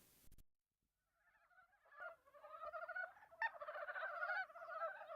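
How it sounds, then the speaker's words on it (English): A frog sound sample plays after a brief click and silence: a rising series of croaking, honk-like calls that grows louder and denser, with no voices. "This is a frog, apparently."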